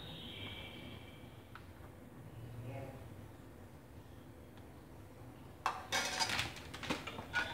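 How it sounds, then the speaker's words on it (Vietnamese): A spoon stirs vanilla into a pot of sweet lotus seed and longan dessert soup, with soft scraping at first and then a burst of metallic clinks against the pot near the end, fairly close. "Ta quậy cho vani nó tan."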